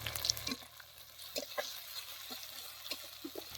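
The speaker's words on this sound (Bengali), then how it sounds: "মশলাগুলোকে আমরা ভালো করে কষিয়ে নেব" Spices with salt and turmeric sauté in a pan with a soft, close sizzle, broken by scattered light scraping and stirring taps. The sound is quiet and steady with small bursts.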